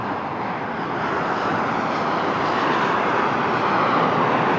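An EasyJet airliner arriving from Funchal roars close by at Lisbon Airport, a broad, steady rumbling engine noise that swells slightly louder as it comes in to land.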